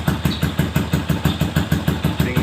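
A tuned Yamaha Jupiter Z 125cc motorcycle engine idles in a workshop, a loud, close, steady pulsing putter with an even rhythm and no speech.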